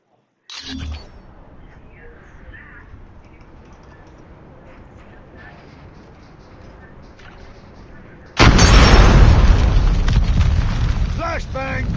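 Grenade blasts in the mobile game Call of Duty Mobile: a sharp burst at the start, a quieter rumbling stretch, then a sudden loud, sustained explosive roar lasting several seconds, with a voice talking in places.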